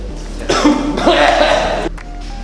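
A person coughs a few times, short harsh bursts clustered together close to the microphone, then stops, with the room quiet around it.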